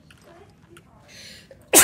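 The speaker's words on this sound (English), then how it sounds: "Stop sneezing!" A single loud, sharp sneeze bursts out at the very end after quiet moments of faint background sound and soft murmuring.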